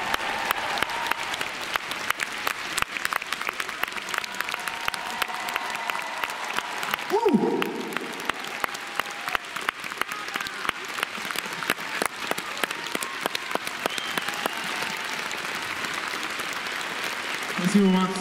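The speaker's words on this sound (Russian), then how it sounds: "Еще аплодисменты, аплодисменты." An audience at a figure skating ice show applauds continuously in a large arena, a dense steady clapping wash under someone speaking over a loudspeaker.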